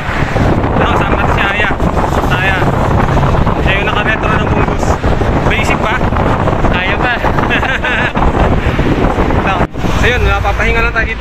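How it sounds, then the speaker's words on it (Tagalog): Strong wind buffets the microphone in a loud, continuous roar on a hilltop mountain-bike trail in Hudayriyat, with a voice faintly present underneath. "Medyo malakas ang hangin."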